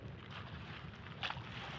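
Strong amihan wind gusting across a flowering rice field, a steady broadband roar buffeting the microphone with a brief louder gust near the end; no talking.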